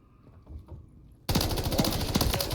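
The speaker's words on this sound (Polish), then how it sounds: "Strzelają do mnie" Automatic gunfire in Call of Duty MWIII, on the High Rise map, bursting in suddenly and loudly after a quiet start, then continuing as a dense, rapid rattle.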